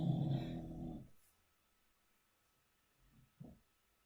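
A dog growls in a low, rumbling burst at the start, then fades into near silence broken by a couple of faint soft thumps and shuffles; no one speaks.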